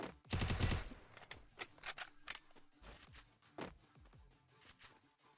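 Gunfire in the Free Fire battle royale mobile game: a quick rapid-fire burst followed by scattered single shots and short volleys, crisp and fairly close, with no talking over it.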